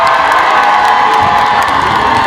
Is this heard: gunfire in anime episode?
no